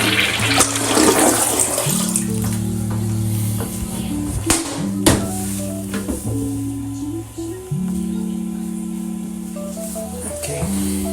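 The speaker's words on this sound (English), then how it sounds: "we got the new toilet working" A newly installed toilet in a remodeled restroom flushes close by, with a gurgling rush of water followed by the tank refilling with trickles and hissing.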